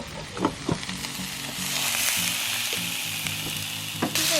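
Marinated beef sizzling in a frying pan at a lakeside campsite, a steady close hiss with a few sharp knocks and spatula taps at the start and end, alone without talk.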